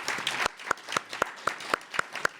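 An audience at a Baystate Health faith event applauds the panelists, a soft wash of clapping with one or two hands beating out a regular rhythm above it.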